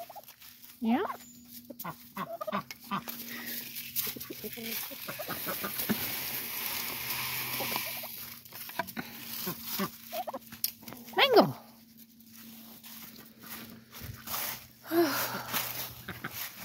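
Poultry, including ducks, on a small farm in the woods, with scattered clucks and squawks, mostly at middle distance, over outdoor ambience and a low steady hum, with a person speaking now and then.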